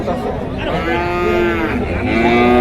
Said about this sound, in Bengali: প্রচুর গরু উঠেছে